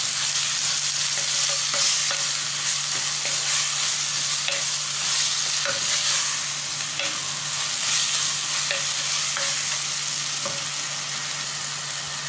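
Tomatoes with salt fry steadily in a pan for country chicken curry, a continuous bright sizzle with regular scraping stirs every second or so and a low background hum.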